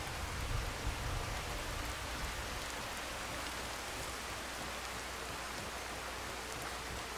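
Steady heavy rain falls in the game Skyrim, a dense even hiss that runs unbroken through the whole stretch with no voices over it.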